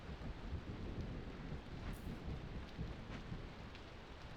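Storm in the Against the Storm game, with steady rain hissing on surfaces and low rolling thunder beneath it, faint and continuous.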